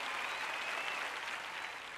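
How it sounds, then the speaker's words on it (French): An audience at a sermon claps for two seconds, a dense and even patter of applause that sounds slightly distant and fades a little at the end. "Vous avez applaudi, c'est bien."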